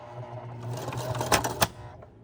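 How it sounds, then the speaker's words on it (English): A Singer M3220 sewing machine back stitching in reverse, a short close whirring run that builds and ends in a couple of sharp mechanical clicks. "I'm going to put down the reverse again and back stitch."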